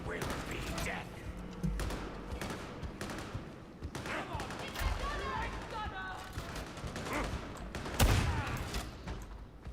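A gun fires in combat in the Warhammer 40,000: Darktide video game, a dense run of shots and impacts with heavier thumps throughout, mixed with players talking.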